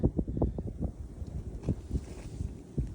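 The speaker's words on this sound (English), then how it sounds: "It's really windy" Strong wind gusts buffet the microphone outdoors in West Texas, a rough low rumble with repeated thumping bursts and rustling, steady for several seconds with no voices.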